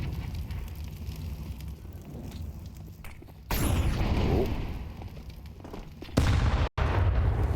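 A grenade explodes during a Counter-Strike 2 match, a sudden loud burst followed by crackling fire and gunfire in a noisy game mix, with a second sharp blast near the end and faint commentary underneath.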